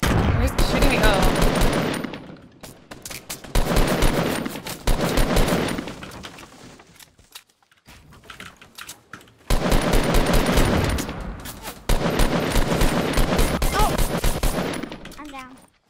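Rapid bursts of automatic gunfire in the Fortnite Battle Royale video game, loud and dense with a near-silent gap midway, then heavy firing resumes to the end.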